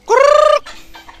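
Farm chickens let out one loud, drawn-out squawking call at close range, then a brief stretch of faint, softer rustling and clucking.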